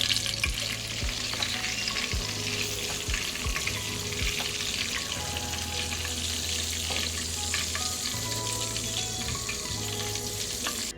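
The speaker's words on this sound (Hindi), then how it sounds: "इसी तरह से हमें सारे कबाबों को फ्राई कर लेना है।" Chutney kebabs frying in oil for a Ramadan iftar snack, a dense, steady bubbling sizzle throughout, with faint clinks of a utensil and a low background hum.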